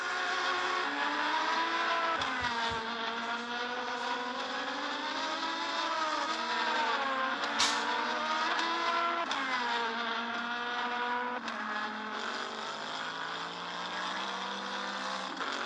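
Race car engines in the Le Mans Virtual sim racing game scream continuously at high revs, their pitch rising and falling with gear shifts as cars run close together and pass, loud and steady throughout with no talking.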